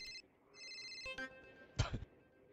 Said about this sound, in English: I can hear my phone ringing in another room